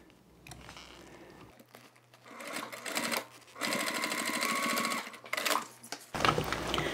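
A sewing machine stitches the top side panel seam of a toiletry bag, its motor running in steady bursts with short pauses and some fabric crinkling between runs, close and fairly loud.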